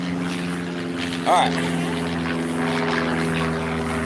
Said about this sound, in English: we're right next to an airport, so that's why you hear all these airplanes and helicopters.